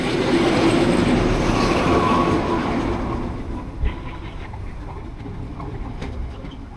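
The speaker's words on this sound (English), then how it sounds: "the train we're catching is the Sydney to Casino XPT" A Sydney to Casino XPT passenger train arriving at a station rumbles loudly, its roar gradually easing as it slows, with a brief clank and faint wheel squeal near the end.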